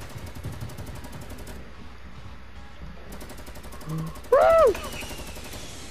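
Magnum and tactical SMG gunfire in a Fortnite match, a continuous rattle of shots under game noise, with a brief loud burst near the end and a voice cheering.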